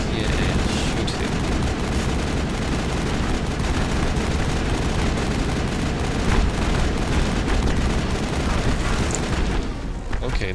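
Continuous, dense gunfire and explosive booms from the video game Mass Effect fill the scene without letup, loud and busy throughout.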